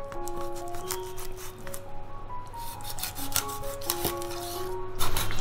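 A knife scoring the slippery back of a white eel without cutting through, heard as steady close rasping and rubbing strokes against a wet, firm surface, with a low background hum.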